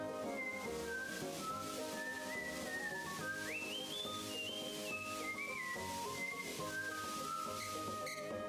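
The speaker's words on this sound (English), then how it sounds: "You know, he whistled." Mario whistles a melodic tune in the Super Mario RPG video game, a wavering pitched whistle rising and falling over steady game music, clear and continuous.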